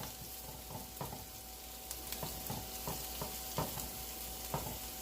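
Stir-fried vegetables sizzle steadily in a hot pan, with regular scraping stir strokes cutting through the frying hiss at close range; no voices.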